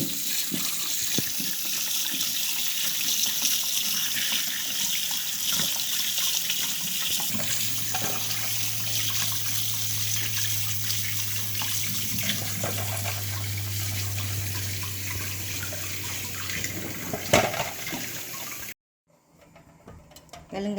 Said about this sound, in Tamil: நான் சுத்தமாக கழுவி எடுத்துகிட்டு வரேன்.